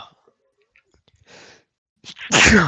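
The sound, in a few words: person sneezing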